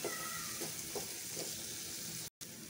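Spices stirred into pumpkin and chana dal cooking in a pan: a low, steady frying sizzle with soft periodic scraping strokes of the stirring, then a very brief dropout near the end.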